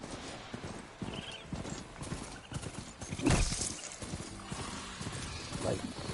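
A horse mount gallops in the game Horizon Forbidden West: steady clip-clop hoofbeats with a short neigh midway, sitting under a faint game backdrop.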